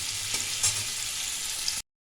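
Prawns frying lightly in a pan, a steady close sizzle that runs unbroken and then cuts off abruptly near the end.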